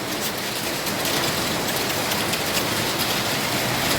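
Heavy typhoon rain from Typhoon Gaemi pours down in Taipei, a dense, steady, loud hiss of drops hitting surfaces that continues unbroken throughout, with no voices.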